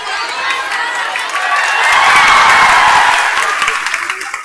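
A large audience at a lecture breaks into applause and cheering, the clapping swelling to a loud peak midway and then tapering off with scattered shouts.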